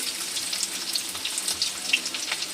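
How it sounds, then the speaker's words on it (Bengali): Chopped garlic dropped into hot white oil, a bright close sizzle of dense crackling hiss that stays steady throughout, with no voices. "আগে রসুন কুচিটা দিয়ে দিচ্ছি"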